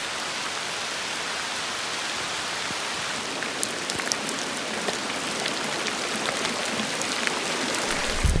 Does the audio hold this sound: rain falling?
yes